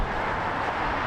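A United airliner passes over runway 19 at Las Vegas airport, a continuous, fairly loud wash of jet noise with no breaks and no talk.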